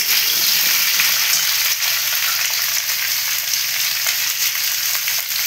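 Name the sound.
vegetables, sweet potato and beans, frying and stirred in pan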